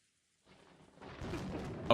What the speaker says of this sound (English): Crash of thunder.